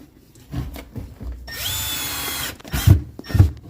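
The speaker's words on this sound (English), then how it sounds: "I'm putting 3 screws in" A power drill runs in short bursts then a sustained whine as screws are driven into a soft close drawer slide, close and fairly loud, followed by two heavier thumps.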